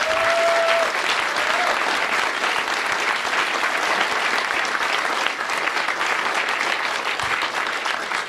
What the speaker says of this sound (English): You see these guys in the blue shirts, they need a big round of applause also.